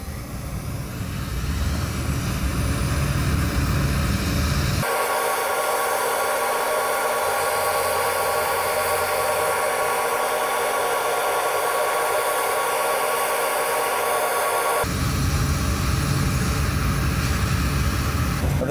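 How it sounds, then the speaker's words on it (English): A propane torch flame plays onto an uncoated fiberglass mat, giving a steady, loud roaring hiss that holds unbroken for about ten seconds between quieter stretches of background noise, with no talking. "This is the effect of a propane flame on an uncoated fiberglass mat."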